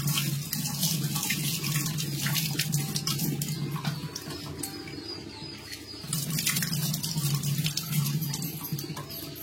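A kitchen tap runs steadily while fish is washed under it for a home fish curry, a close continuous splashing rush with small shifts in flow, and birds faintly audible in the background.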